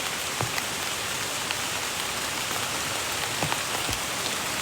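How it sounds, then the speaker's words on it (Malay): Heavy, steady rain pours down in a continuous dense hiss throughout, with a few louder drips and splashes standing out near the listener. "Masalah ni hujan, tak boleh nak apa."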